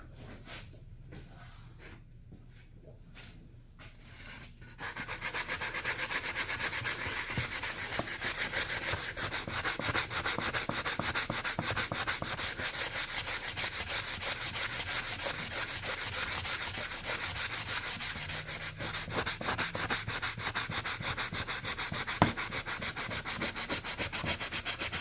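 Steady rhythmic sanding of wood by hand, close and continuous for most of the stretch after a quieter start, with no talking.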